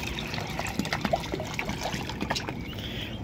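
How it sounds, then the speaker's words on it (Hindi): Fresh water is poured and splashes into a small pool for ducklings and chicks, a soft trickling and dribbling with light splashes, fairly quiet and close. "अभी इसमें अभी और पानी डालते हैं,"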